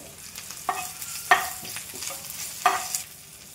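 Crushed ginger, garlic and green chili paste sizzles and fries in a pan with hot oil and turmeric while a spoon stirs it, giving several sharp scraping clatters over a steady, soft crackle.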